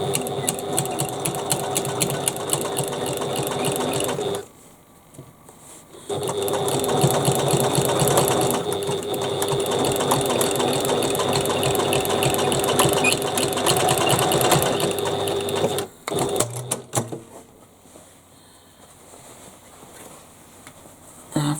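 A sewing machine stitches a Shamballa Paloma bag in long steady runs, with a pause near five seconds and a stop around sixteen seconds followed by a few short bursts.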